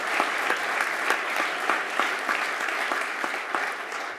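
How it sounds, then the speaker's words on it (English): Audience applause for a leadership team at a Chicago business event, a steady dense wash of clapping hands sustained for several seconds at close range with no talk over it. "So please give them a round of applause."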